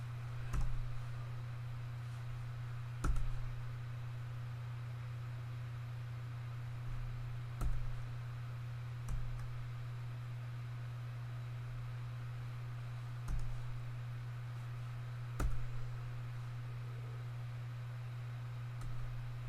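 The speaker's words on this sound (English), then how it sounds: "Now I'm just using the arrow keys here to make this work." Computer keyboard arrow keys pressed while playing a simple game, single sharp clicks spaced a few seconds apart under a steady low electrical hum, faint and close.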